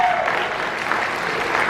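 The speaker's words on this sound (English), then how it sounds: "can we please have a round of applause for those families?" An audience applauds a group of families at a high school show choir cabaret, a dense, steady round of clapping that fills the room at a constant level throughout.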